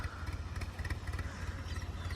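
A tractor engine runs at mid distance in a flooded paddy field, a steady throbbing idle-like rumble with faint clatter, alone with no talk.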